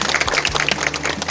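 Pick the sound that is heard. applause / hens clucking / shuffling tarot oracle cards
applause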